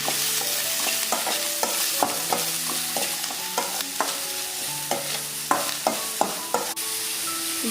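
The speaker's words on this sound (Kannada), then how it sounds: "ನೀರುಳ್ಳಿ ಮೆಣಸು ಎರಡು ಹಾಕ್ಕೊಂಡು ಫ್ರೈ ಮಾಡ್ತಿದ್ದೀನಿ." Onions and chilies fry in hot oil in a pan with a constant close sizzle, while a spatula scrapes and stirs in repeated clinks and knocks throughout, with no talking.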